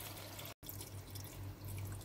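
Water runs from a tap into a pot of potatoes and marinated pork ribs in a steady, close splashing stream, broken briefly by a short cut.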